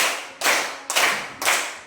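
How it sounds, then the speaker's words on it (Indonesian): Three loud, reverberant claps land at a slow, even pace, each ringing out briefly into a room before the next one. "tepuk 1, tepuk 2, tepuk 3, tepuk 4"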